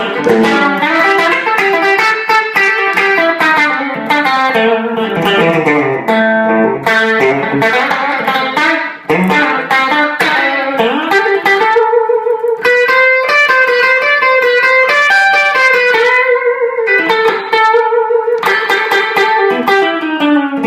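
A 1997 Fender Big Apple Stratocaster hard tail plays bright, full chords and single-note runs through a Fender Super Reverb amp, loud and continuous with rich sustain and a touch of reverb, no voices over it.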